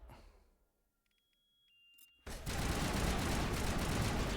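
Gunfire in the video game Mass Effect 1 bursts in abruptly after a near-silent stretch with a few faint ticks and a thin tone, then keeps going as a loud, dense, sustained volley of rapid shots.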